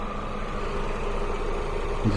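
A car engine idles in a steady, low, even drone, close by and continuous, with no voices.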